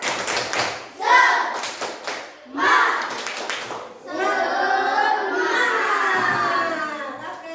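A class of schoolchildren does the rhythmic tepuk semangat routine, clapping in short patterned bursts separated by brief pauses, then breaking into a loud group chant as the clapping continues.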